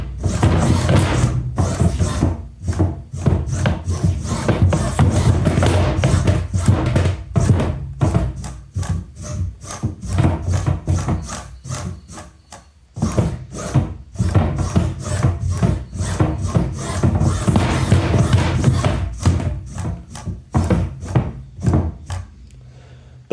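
A beetleweight combat robot with a tangent drive upgrade runs inside a small test box, giving a loud, close, continuous scraping and rattling with rhythmic knocks and short pauses over about twenty seconds.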